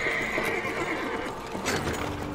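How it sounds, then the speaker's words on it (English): Horse and carriage in the video game Amnesia: The Dark Descent, a loud drawn-out whinny over steady clip-clop hooves and rolling carriage noise. "Where's this horse and carriage I'm hearing?"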